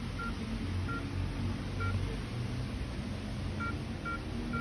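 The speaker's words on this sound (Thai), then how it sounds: "ใส่รหัสตู้เซฟบนโต๊ะขึ้นได้เลย" Keypad beeps on a Xiaomi Pro safe as a code is entered, short tones in an irregular sequence over a steady low background hum, with no talking.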